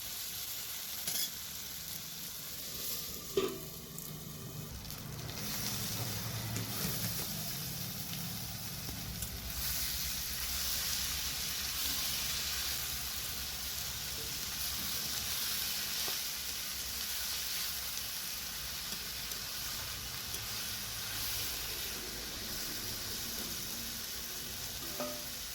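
Banana flower and potato sizzle in a pan while being stirred, a soft steady frying hiss with gentle scraping and an occasional faint clink.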